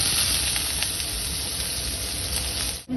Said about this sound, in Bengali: গোটা জিরে ফোড়ন দিচ্ছি। এবার পেঁয়াজ কুচি